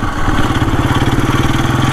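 A 1954 Motobecane Z46C motorcycle engine running close by, with a fast, even single-cylinder putter at idle and no voices.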